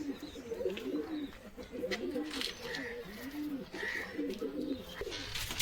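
Pigeons coo steadily in a loft, their soft rolling calls repeating in overlapping phrases throughout with faint background noise and occasional higher chirps.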